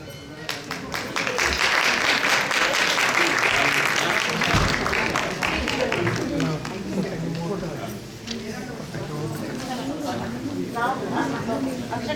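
Audience at a welcome function applauds in a long, steady burst of dense clapping that fades a little toward the end, with some voices mixed in underneath.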